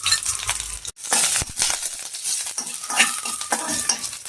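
Ginger, garlic and red chili hit hot oil in a wok with a bright sizzle and scraping stir strokes after a short pause at the start.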